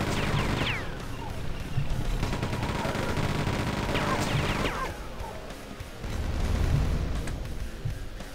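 Heavy gunfire and explosive crashes from the first-person shooter Quake II, with rapid repeated shots, impacts and a few sweeping bursts filling the whole stretch, loud and close.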